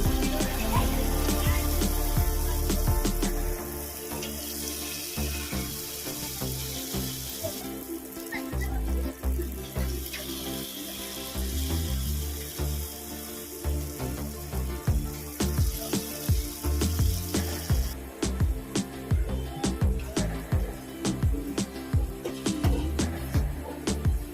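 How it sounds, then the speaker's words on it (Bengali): Small jackfruit batter fritters sizzling and crackling steadily in hot oil in a karahi, a dense continuous fry with scattered pops and occasional utensil clicks, close and fairly loud with no talking. "আমার তেলটা গরম হয়ে গেছে এবার ছোট ছোট করে ছেড়ে দেবো"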